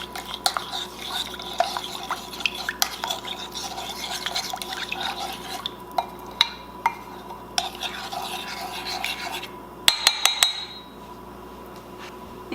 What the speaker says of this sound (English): And now let's just mix it up.